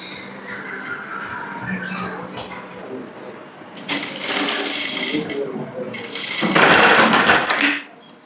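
A sewing machine stitches a blouse in a tailoring workspace, running close in rapid mechanical bursts that speed up into a loud whirring run near the end, with quiet talk between the stitching passes.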